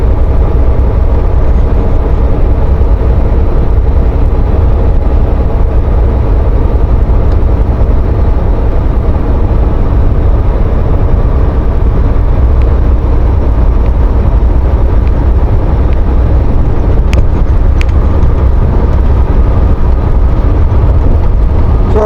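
A truck rolls across open fields, a loud, steady engine drone and road rumble running unbroken and close throughout.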